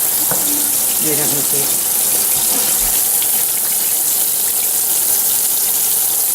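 A tap runs steadily into a sink while hands are wetted and washed, a loud, close, continuous gush with a few brief spoken words over it.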